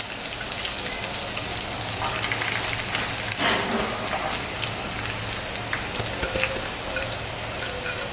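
Onion fries in hot oil in a pan with prawns on a tawa over a medium flame, giving a steady, close, hissing sizzle with brief louder crackles throughout.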